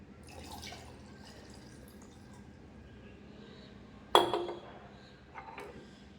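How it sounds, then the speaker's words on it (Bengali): Boiled milk is poured into banana juice in a blender, a faint, soft liquid trickle with a brief clink partway through, quiet throughout. "আর এবার দিয়ে দেব দুধ।"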